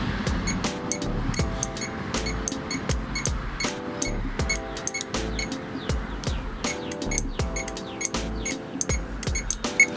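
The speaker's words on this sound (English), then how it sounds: "So that relay is clicking." A relay on a 2011 Honda Civic Si with a no-crank fault clicks sharply and repeatedly in a fast, fairly regular series, close and crisp, with road traffic and birdsong faintly behind.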